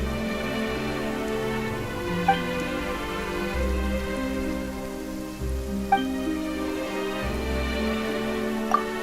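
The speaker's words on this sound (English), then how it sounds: "Why is it raining all of a sudden?" Steady, dense rain patter in the Genshin Impact game world, with a low droning musical score underneath and a few faint chime-like accents. No voices.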